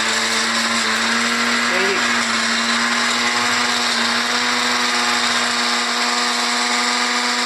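A kitchen mixer grinder whirs continuously as it blends onion for a village-style fish curry, a loud, steady high-pitched motor drone held close for the full seven seconds with no voices over it.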